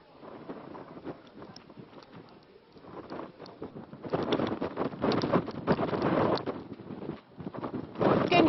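Strong cyclone winds of Cyclone Biparjoy lashing coastal Gujarat, a continuous broadband roar that swells louder in gusts, with no voices over it.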